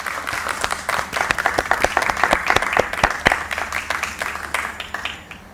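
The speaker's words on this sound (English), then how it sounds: "Let's join together to give all the parents a round of applause." Audience applause for parents at a school speech day, a dense, steady wash of many hands clapping that swells and then tapers off toward the end.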